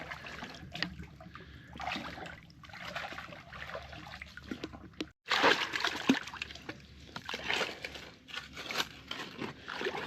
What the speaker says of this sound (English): Been dunking this camera in the water to keep it cool, so hopefully it ain't messing the sound up.